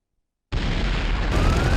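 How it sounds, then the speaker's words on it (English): A grenade launcher fires in the Turok 2 video game multiplayer mode: a sudden loud blast after brief silence, followed by a sustained explosive rumble. "It does seem to fire grenades a little bit faster."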